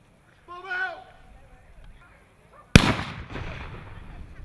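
A WW1-style grenade goes off outdoors at a living history reenactment: one sudden sharp blast with a rumbling decay, preceded by a brief voice in the distance.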